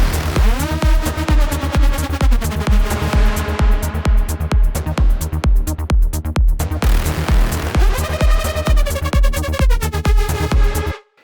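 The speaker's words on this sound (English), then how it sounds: "the wobble effect on a synth that you hear in Future Rave at the moment" A wobbling Future Rave synth built in reFX Nexus pulses in fast, even rhythmic chords, loud and alone, its pitch sliding between sustained notes before cutting off at the end.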